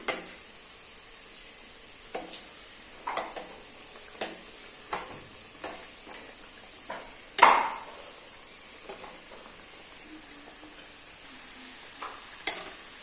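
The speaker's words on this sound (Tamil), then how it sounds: "இப்போ நாம் ஒவ்வொன்றா எடுத்து எண்ணெயில் போடலாம் நல்லா வெந்துக்கிட்டு இருக்கு" Samosas deep-frying in hot oil give a soft, steady sizzle, broken by scattered clinks and taps as they are turned, with one louder scrape midway.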